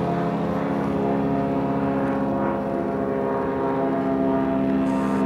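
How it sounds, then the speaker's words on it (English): Radio-controlled model airplane flying overhead during knife-edge maneuvers, its steady propeller drone holding at an even, fairly loud level throughout with slight pitch wavering and no talk. "This plane is about the most neutral on mixing of any plane I've ever owned."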